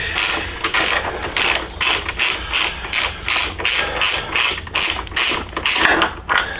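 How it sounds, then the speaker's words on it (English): Hand ratchet with a 15 mm socket loosening an engine crash bar bolt on a 2020 Indian Challenger motorcycle, a close, loud run of rhythmic clicking strokes repeating steadily, about a dozen pulls. "Get that upper bolt loose, hopefully easily enough."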